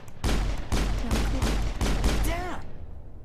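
Gunfire from the video game Mass Effect, a run of about six rapid, evenly spaced heavy shots with a short rising electronic whine at the end, fairly loud.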